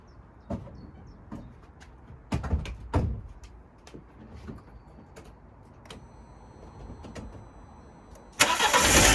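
A Fiat 500 engine cranks in several short bursts before catching and running loudly near the end, close and alone.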